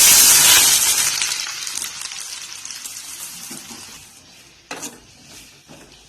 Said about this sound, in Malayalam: ഇപ്പൊ എണ്ണ നല്ല ചൂടായി വന്നിട്ടുണ്ട് ഇനി നമുക്ക് ഇതിലേക്ക് സവാളയും പച്ചമുളകും കൂടി ഇട്ട് കൊടുക്കാം